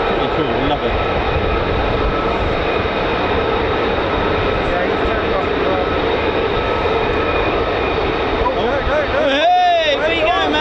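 F-35 fighter jet engine at RAF Lakenheath, a loud steady roar filling the scene throughout, with a rising whine near the end; a person talks over it.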